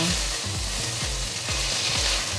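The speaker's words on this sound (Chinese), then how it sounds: "醬油下去，給它炝鍋一下，這樣子會更香" Soy sauce hitting a hot wok during vegetarian stir-frying, a loud continuous sizzle with rhythmic spatula tosses thumping every half second or so.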